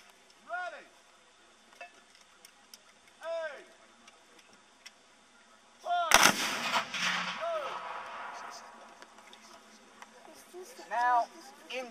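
Confederate Civil War reenactors at Pitzer Woods on the Gettysburg battlefield fire a loud musket volley midway, a sharp crack followed by a long rolling echo, with faint distant sounds before and after.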